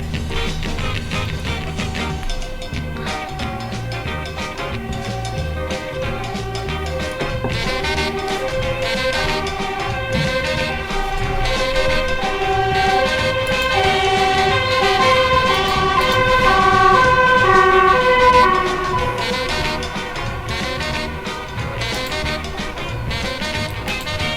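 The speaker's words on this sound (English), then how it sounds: "Wait for the fucking fire truck to go past." A fire engine siren wails close by for over twenty seconds, its wavering tone swelling as the truck passes, backed by road traffic noise beside a preserved LMS 4767 steam locomotive.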